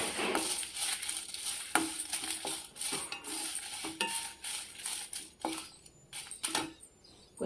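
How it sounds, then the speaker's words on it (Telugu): Dried red chillies frying in a little oil for a mango coconut chutney, with continuous crackling and frequent spoon clinks and scrapes against the pan, close and fairly quiet throughout. "ఎండుమిరపకాయలు వేయించుకుందాం కొంచెం"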